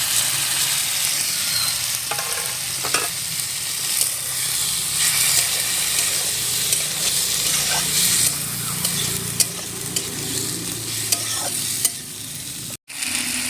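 Rice and lentils frying in spices and vegetables for village-style khichuri hiss and sizzle continuously in a pan, with frequent stirring scrapes up close and a brief dropout near the end; no voices.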